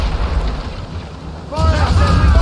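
Ship cannons boom in a naval battle in Assassin's Creed Rogue, with a low rumbling barrage swelling midway as shouted crew voices rise over the gunfire.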